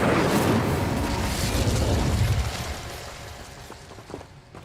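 A fire spell bursts in Hogwarts Legacy with a deep, rumbling whoosh of flame, loud at first and then fading over a few seconds as crackling tails off.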